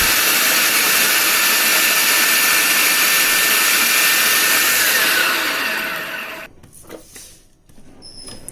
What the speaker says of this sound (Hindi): मैंने फूड प्रोसेसर ले लिया है।